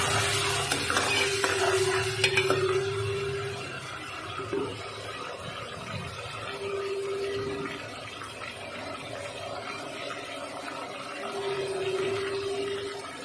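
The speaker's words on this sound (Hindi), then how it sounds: "लहसुन अदरक का पेस्ट डालने के बाद थोड़ा सा हम मिक्स करेंगे ऑयल के साथ" Garlic-ginger paste stirred into hot oil in a pan, a steady sizzle with scraping stir strokes running throughout at moderate loudness, with no talk.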